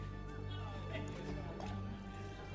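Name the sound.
horse galloping in The Witcher 3 video game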